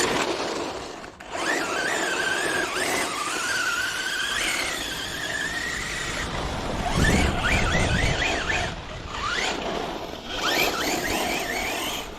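A Traxxas Slash RC car's electric motor whines under light throttle, a steady high squeal rising and falling in short pitch sweeps over a constant mechanical buzz, close and fairly loud, with a brief dip partway through.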